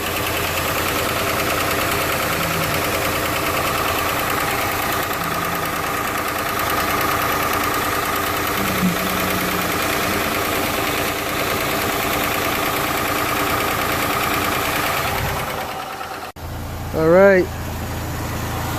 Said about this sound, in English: The engine's running pretty smooth.